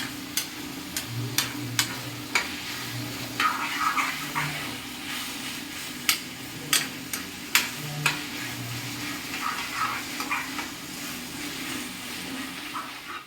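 Chicken curry with onions being stirred in a pan, a spoon scraping and knocking against the metal in sharp intermittent clicks over a soft steady sizzle, close and moderately quiet, with no one talking.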